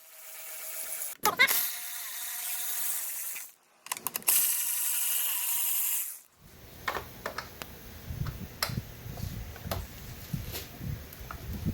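Bolts come out of the fairing on a Kawasaki H2 motorcycle: two loud bursts of ratcheting or driver whir up close, then quieter clicks, taps and small metallic handling noises.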